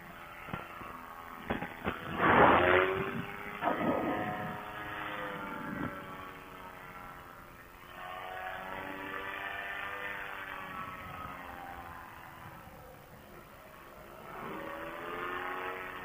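A Nirvana Instinct paramotor engine drones steadily with a strong tonal whine that sags, then rises again as the throttle swings between low and high. Loud bursts early on give way to a long, wavering run.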